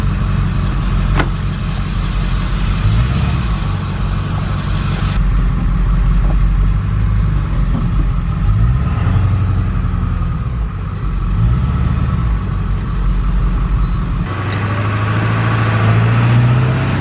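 A 7.3 Powerstroke diesel pickup truck runs steadily, a loud, continuous low rumble with a constant idle throb and brief shifts in tone, heard close up with no speech.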